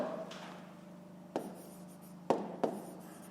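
A pen writes out a math solution on paper, faint scratching strokes with a few short firmer marks, quiet and close with no talking.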